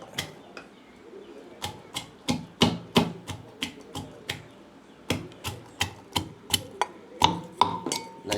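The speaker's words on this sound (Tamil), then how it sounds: "இங்கே வந்து பொடி வெங்காயத்தை வந்து இடிக்கிறாங்க" Small onions are pounded by hand in a home kitchen, sharp thudding blows landing one after another in uneven bursts, close and distinct with short pauses between strikes.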